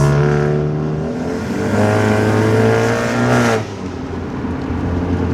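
A Honda Civic fitted with a PRL short ram intake drives along, its engine and intake droning loudly and rising in pitch as it accelerates, then dropping back after a shift.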